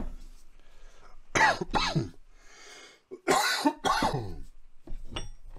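Two sharp bursts of coughing, each a quick cluster of harsh coughs, loud and close, with quiet room noise between.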